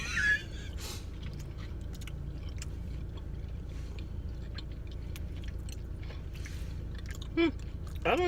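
Someone chewing and eating mochi up close, soft squishy mastication sounds over a steady background hum, with a few brief clicks and faint vocal sounds.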